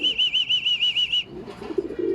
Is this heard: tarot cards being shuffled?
no